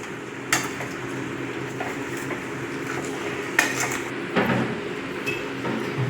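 Crab masala is stirred in a pan, with a spoon scraping and clinking against the metal in irregular strokes over a low, steady sizzle. A few sharper knocks stand out, close to the listener.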